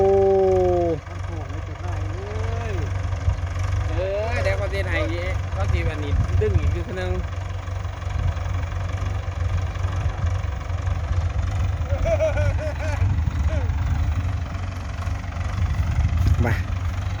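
A Ford tractor engine idles and chugs steadily in a low rumble while pushing soil to build a paddy-field dike, with people talking over it throughout.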